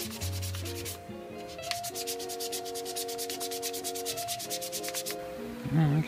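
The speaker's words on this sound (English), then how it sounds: "looks like using some 600 grit sandpaper is helping" Hand sanding a wooden fishing-bobber mallet with 600 grit sandpaper, a close rapid series of rhythmic rubbing strokes with a tonal hum underneath and no speech.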